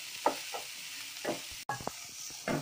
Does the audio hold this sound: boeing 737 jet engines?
no